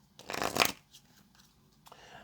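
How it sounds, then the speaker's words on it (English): Tarot cards are shuffled in a quick riffling burst near the start, followed by quieter soft card handling and a faint rustle at the end. "let's get one more shuffle"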